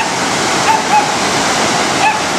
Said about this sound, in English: Sure, it's the water that feeds the falls.